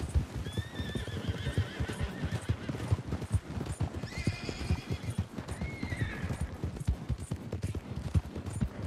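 Horse in the video game Red Dead Redemption 2 gives a couple of high whinnies over steady, close clip-clop hoofbeats throughout.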